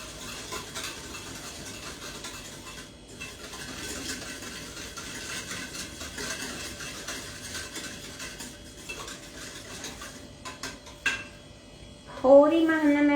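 A spoon stirs food in a cooking pot at home, giving repeated clinks and scraping that continue under quiet background noise, followed by a short burst of voice at the end.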